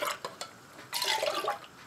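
A little water swished back and forth inside an emptied tomato can to rinse it, a few quick sloshes followed by a longer, splashy swirl, close up.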